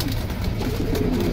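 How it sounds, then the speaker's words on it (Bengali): A jaggla pigeon coos at a pigeon market in Keraniganj, with close, low, rolling coos that fill the short moment and no talk over them. "জাগগলা কবুতরটা কিন্তু খুব সুন্দর।"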